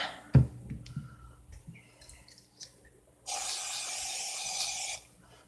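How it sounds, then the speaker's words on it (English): After a thump and a few soft handling clicks, an aerosol can of silicone sprays onto acrylic pour paint in one steady hissing burst lasting under two seconds, then stops. "I forgot to add the silicone. Oh, well, I'll spray some more."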